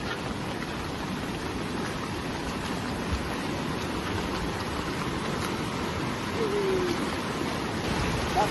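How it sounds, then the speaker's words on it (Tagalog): Kawag River water flowing steadily at a campsite during stormy weather, a continuous broadband rush with no breaks and no talk. "Nandoon na yung ilog. May ilog dyan."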